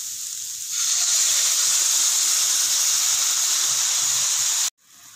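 Milk poured into a hot pan of sautéed beetroot sets off a loud, steady sizzling hiss that swells abruptly and holds for several seconds before cutting off.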